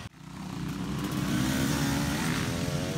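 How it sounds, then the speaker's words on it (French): A KTM 350 four-stroke and a Husqvarna 250 two-stroke dirt bike drone through a four-hour endurance race, a loud, steady engine roar that holds a constant pitch over a few seconds, with no talk. "avec mon ami et coéquipier Gérald que nous nous sommes reliés successivement au guidon d'une KTM 350 4 temps et d'une Husqvarna 250 2 temps"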